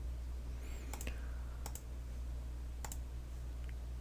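A few sharp computer mouse clicks sound in a quiet room while editing in After Effects CC 2020, spaced about a second apart over a low steady hum.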